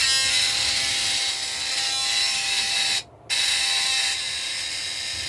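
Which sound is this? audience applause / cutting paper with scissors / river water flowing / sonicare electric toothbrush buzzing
sonicare electric toothbrush buzzing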